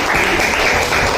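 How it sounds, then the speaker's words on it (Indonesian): A classroom of students applauds a second discussion group in a steady, dense burst of clapping that holds at an even level throughout. "Kita beri tepuk tangan untuk kelompok kedua"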